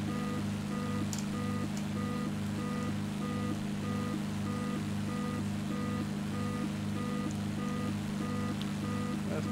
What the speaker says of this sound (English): Let's see if I can put in a little bit more power and make that beeping go away.